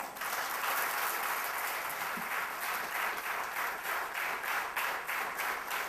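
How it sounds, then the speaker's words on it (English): Graduates at a college graduation ceremony in Bangalore applaud together in a steady, dense wash of clapping that holds for several seconds with no talk over it. "Please give yourselves a big round of applause."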